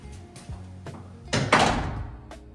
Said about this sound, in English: Close the door, just see how it closes.